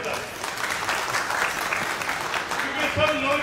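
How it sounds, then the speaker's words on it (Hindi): A crowd at a Mumbai Congress transport-cell team announcement claps for Khalid bhai, a dense steady applause running throughout, with voices mixed in. "इसके लिए खालिद भाई के लिए ताली बजाई जाए जोरदार"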